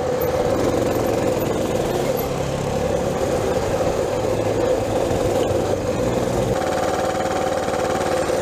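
A small mini bike engine drones steadily at close range for the whole stretch of a desert ride over rocky ground, loud and unbroken, with the pitch shifting slightly near the end.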